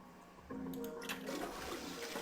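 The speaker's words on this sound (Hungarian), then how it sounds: "Le tudom húzni a klocsot" A toilet flushes in the video game Zero Escape: Nine Hours, Nine Persons, Nine Doors, with a sudden rushing swirl of water starting after a short pause and continuing steadily.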